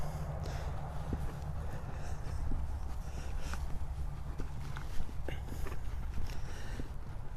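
A horse's hooves clip-clop in a slow, steady walk on a loose rein in a left-hand circle, over a low rumbling background, occasional sharper hoof strikes standing out.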